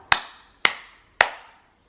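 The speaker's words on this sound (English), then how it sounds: "And can you clap your hands?" Three evenly spaced, crisp hand claps close by, each a sharp slap with a short ringing decay, from a nine-month-old baby's clapping game at home.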